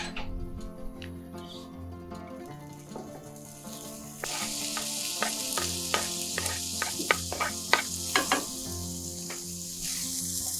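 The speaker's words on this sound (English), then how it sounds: "Now, we start with bacon. We're gonna have very crispy bacons." Bacon frying in a hot pan, a crackling sizzle that grows louder partway through, with sharp pops and spatters over a steady hiss and no voices.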